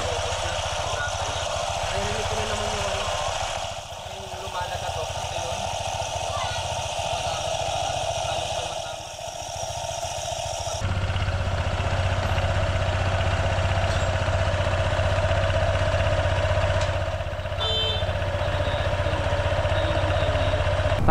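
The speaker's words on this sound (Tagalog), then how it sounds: "paparinig ko sa inyo yung tunog ng CVT natin" Honda ADV 160 scooter with a freshly cleaned CVT running steadily, a continuous mid-pitched engine hum with belt whir and light rattle, close and even, rising slightly in level halfway through.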